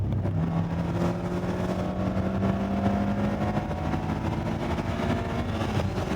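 Mazda Miata ND3 held flat out on a race track, its engine droning steadily at high revs with a rising tone and road and wind roar, loud and continuous with no lift.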